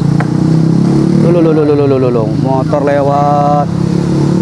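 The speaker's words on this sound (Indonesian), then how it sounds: "Motor lewat" A motorcycle passes by at a construction site, its engine note rising and falling loudly for a few seconds over constant machinery rumble and site noise.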